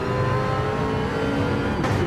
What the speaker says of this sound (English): Now the BMW sounds great. It's the smallest motor on the field